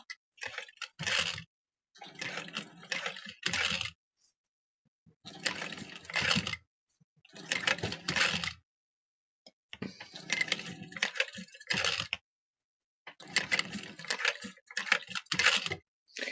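A sewing machine runs a 1/8 inch top stitch in short, separate bursts of rapid needle clatter with silent pauses between them, close and fairly quiet.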